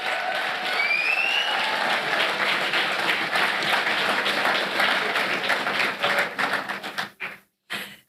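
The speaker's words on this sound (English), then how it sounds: "Another round of applause for the Brotherhood drummers." Audience applause for a drumming group at the opening ceremony of the Caribbean Week of Agriculture, a full, sustained clapping from a crowd with a faint bird chirp early on, thinning into a few scattered claps before stopping.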